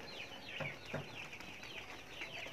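Quail calling repeatedly just before laying eggs, a series of short chirping and clucking notes close by with faint rustling behind, no talk.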